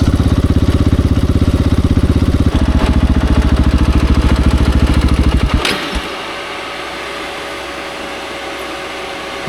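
A KTM 690 Enduro single-cylinder motorcycle drones loudly and steadily while being ridden, then the engine note drops away to a quieter low idle-like rumble near the end.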